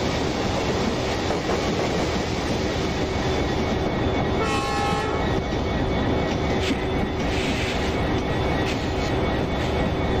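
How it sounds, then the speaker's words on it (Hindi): Train crossing in the MSTS train simulator game with an ALCO locomotive on an Indian route, a steady loud rumble and clatter of passing wagons with a short horn-like tone in the middle. "साइड से देखो एक एल्को लोकोमोटिव के साथ में एक ट्रेन का क्रॉसिंग चल रहा है, कोई एक एक्सप्रेस ट्रेन है।"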